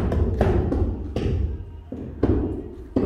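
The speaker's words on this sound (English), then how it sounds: "You hear the roofers next door" Roofers hammer on a roof next door to a new-construction home in Florida, a series of irregular dull thuds and knocks from a short distance, some louder than others.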